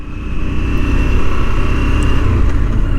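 A KTM 990 Duke motorcycle engine drones steadily and loudly as the bike rides along, a continuous low rumble mixed with broadband wind rush, with no talking over it.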